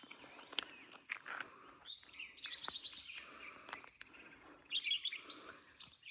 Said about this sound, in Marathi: पक्ष्यांचा आवाज, गावाकडची सकाळ बघा किती छान वाटते.